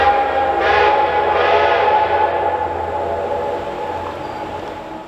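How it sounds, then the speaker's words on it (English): Reading & Northern 425 steam locomotive pulling away on the Lehigh Gorge line: a loud, steady rumble and hiss with a sustained whistle tone running through it, fading slightly toward the end. "Once the conductor boards the train, the 425 gets moving again."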